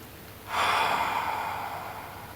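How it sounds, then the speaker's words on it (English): A single close, soft breath in a cooling breathwork exercise, rising sharply into a breathy rush that slowly tapers away, with no talking. "you can inhale through the nose and exhale through the mouth"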